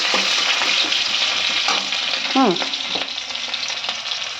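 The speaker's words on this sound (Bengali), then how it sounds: "দেখো পেঁয়াজ কাঁচা লঙ্কা কেটে নিয়েছি, ফোড়নে দিয়ে দিলাম" Chopped onion and green chili sizzle steadily in hot oil with nigella seeds, with a few spoon scrapes and clinks against the pan close by and no talking.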